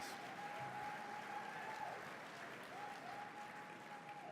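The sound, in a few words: audience applause at awards luncheon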